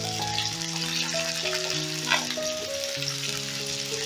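Capsicum and green chillies sizzle and fry in a pan, a continuous close crackling hiss with small popping bursts, while steady tonal music plays over it.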